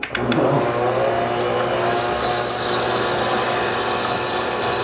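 A motorized appliance whines steadily with a high, gliding squeal layered over a constant mechanical hum, sounding strained and unusual.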